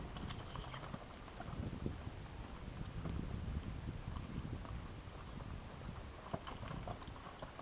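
A horse cantering in an outdoor riding arena: muffled, rhythmic hoofbeats on soft footing under steady wind noise buffeting the microphone, faint and somewhat distant, with no talking.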